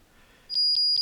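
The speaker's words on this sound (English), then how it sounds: "You want to put it right on that threshold of beep and not beep, but you just want to get it beeping." An AGL Mini II metal detector beeps at its threshold setting, sending out three short, high-pitched electronic tones at an even rhythm after a moment of near silence.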